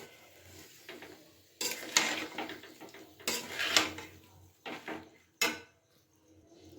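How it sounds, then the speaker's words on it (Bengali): Amla pickle with spices and oil is stirred in a pot, several scraping, clattering bursts separated by quiet gaps, close and moderately loud. "মশলার সাথে তেলের সাথে খুব ভালো করে নাড়াচাড়া করে নিচ্ছি"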